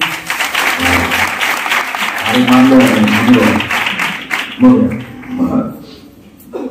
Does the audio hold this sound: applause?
yes